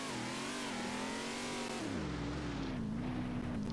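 A NASCAR stock car in Roblox Jailbreak revs hard, a buzzy engine note holding high then dipping and rising again as it lugs and accelerates, steady and close with no talk.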